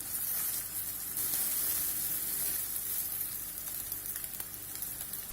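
Noodles spread into about three tablespoons of heated vegetable oil in a pan give a loud, continuous close-up sizzle and hiss, with light stirring movements throughout and no talking.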